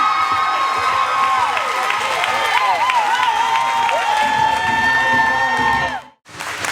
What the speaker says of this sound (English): Give another round of applause, y'all.